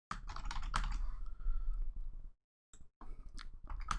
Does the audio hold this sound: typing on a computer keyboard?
yes